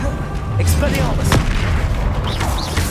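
Expelliarmus spell blasts in the Hogwarts Legacy video game, with a few sharp booming impacts and whooshing bursts over loud, dense combat noise.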